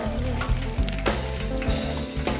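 Chicken frying in hot oil, crisping to golden brown for Hennessy chicken and waffles, gives a steady close sizzle with faint bubbling pops running throughout.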